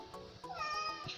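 A cat meows close by while being fed goat kidney at an Eid al-Adha meal, one drawn-out, rising mew with small mouth noises around it.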